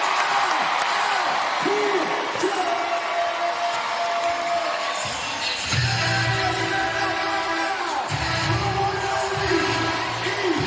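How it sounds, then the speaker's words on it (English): A crowd cheers at a Big3 basketball game in Oakland, a steady roar of voices with whoops, yells and applause filling the arena, while a commentator talks over the noise. "I'll tell you what a heck of a crowd right here in Oakland."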